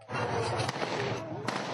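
Insurgent gunfire during a firefight in Iraq: sharp cracks pop over a dense, noisy background, a few distinct shots in quick succession.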